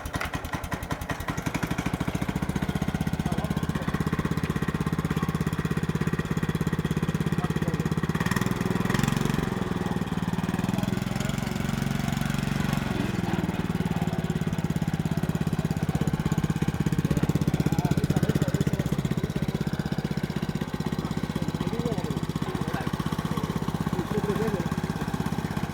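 A 4-stroke earth auger fitted with a 30-inch drill runs continuously nearby, a steady buzzing engine drone with a brief rev change partway through, while people talk over it.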